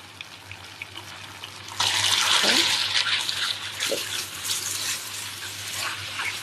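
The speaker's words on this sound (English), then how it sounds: "Put in the kway teow. Careful not to plop everything in at one go, or you risk splashing the oil on yourself." Kway teow noodles go into hot oil in a wok for char kueh teow and set off a sudden loud, steady sizzle that hisses on for several seconds, with a brief spoken word just before.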